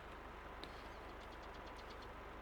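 An old tractor engine in a farming game on an Iowa plains map, a low, steady rumbling idle with a regular knocking throb, faint and continuous, with a few light clicks over it and no talking.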